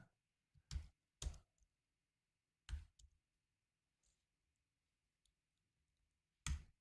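A computer keyboard being typed on slowly: a handful of sharp, close clicks arrive in uneven bursts with quiet gaps between them in an otherwise silent room.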